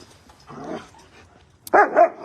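Several puppies give a couple of loud, short yapping barks close by near the end, after a quieter stretch with softer dog noises.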